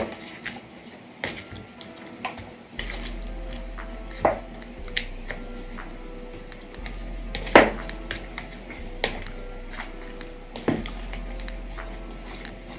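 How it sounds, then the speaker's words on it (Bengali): Chicken biryani marinade with paste and oil being stirred in a bowl, soft wet squishing and scraping with occasional sharp clinks of a utensil against the bowl, close and intermittent. "সব শুদ্ধ নাড়ব"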